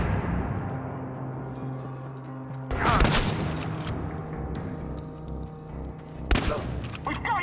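Gunfire in the video game Chernobylite erupts in two loud, sharp volleys with a trailing crack, set against a low ambient drone and a voice shouting.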